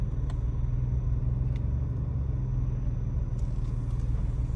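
Car engine rumbling low and steady nearby while parking, a continuous droning idle with a few faint clicks, no speech.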